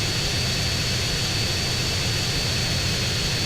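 A jet flying in the game GTA San Andreas, its engine a loud constant roar and high whine with no variation, continuous and alone.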